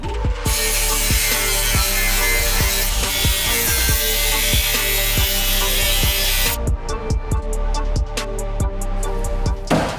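A metal AN fitting is cut off during custom car fabrication of a -20 top radiator hose line, giving loud, steady, rhythmic rasping strokes that sound close, with a sharper, brighter texture toward the end and no talking.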